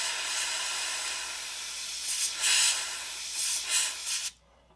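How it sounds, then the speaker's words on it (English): An airbrush sprays paint onto a model railway diorama with flex track, a steady close airy hiss with a few louder bursts, then it cuts off abruptly near the end. "That's the beauty of an airbrush, you see. You can just control the layers."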